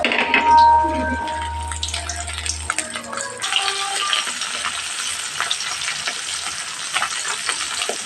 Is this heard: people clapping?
no